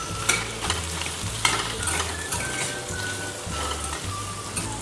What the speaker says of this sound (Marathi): आपले बटाटे आधीच उकडलेले आहेत त्याच्यामुळे थोडेच परतून घ्यायचे तेलात